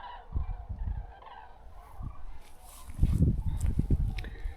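Rough, rattling bird calls come in bursts, some near and loud, layered together as a group calls repeatedly.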